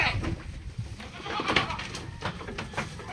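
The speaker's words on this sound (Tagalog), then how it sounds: "ito ang lalaki ng naming kambing" Goats bleat a few times nearby amid rustling and shuffling movement, with a noisy outdoor farm background, including a large breeding buck among pregnant does.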